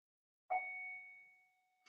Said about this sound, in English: Oh, that's our school bell.